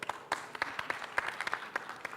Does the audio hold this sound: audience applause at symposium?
yes